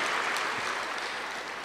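Audience clapping at a Brahma Kumaris spiritual gathering: dense, steady applause from a crowd, loud and continuous for the short stretch.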